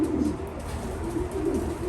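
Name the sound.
pigeons cooing in a loft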